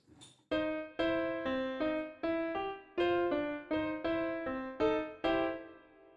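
A piano plays a bouncing boogie-woogie riff, about ten evenly spaced chords in a steady driving rhythm, clear and alone.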